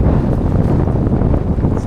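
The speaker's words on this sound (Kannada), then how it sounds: "ಹೆವಿ ಗಾಳಿ ಹೊಡಿತಿದೆ," Strong wind on the Kabbe Hills hilltop buffets the microphone in a steady loud roar with gusting rumble and no voices.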